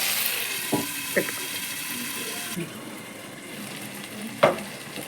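Chopped tomatoes for prawn biryani cooking in a pan over a low flame, a soft hissing sizzle with a few light stirring clicks that quiets partway through and ends with one sharper scrape.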